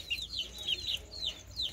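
Gamecock roosters cluck and make quick high chirping calls nearby, several short repeated notes over a low hum, with no talking.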